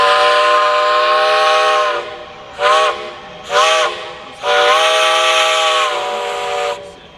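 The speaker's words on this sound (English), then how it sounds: "we bring a steam locomotive in from Gramling Locomotive Works so that people can go for rides behind a steam locomotive." A steam locomotive from Gramling Locomotive Works sounds its whistle loud and close: one long chime-like blast, two short toots, then another long sustained blast that ends with a brief final peep. Steam hiss runs beneath it.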